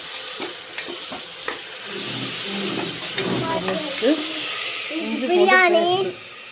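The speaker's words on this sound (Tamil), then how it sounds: "நல்லா கூட்டி வச்சே வதக்கிக்கலாம்." Biryani ingredients sautéing in a pan with steady sizzling and frying hiss while a spoon stirs and scrapes, close up, with people talking over the cooking toward the end.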